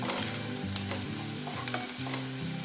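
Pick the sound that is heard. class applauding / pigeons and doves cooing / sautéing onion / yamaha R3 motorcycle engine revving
sautéing onion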